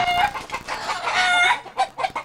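Chickens in trees in Puerto Rico cluck and squawk up close, a rapid series of sharp calls with a brief pause near the end.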